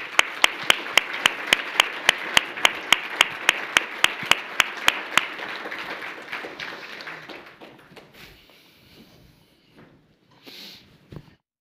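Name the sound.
applause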